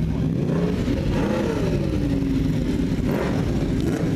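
A raspy four-cylinder sportbike engine revs steadily and close by, a continuous loud drone that rises and falls in pitch, with no talking over it.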